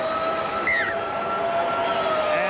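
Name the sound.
half-time siren at a rugby league match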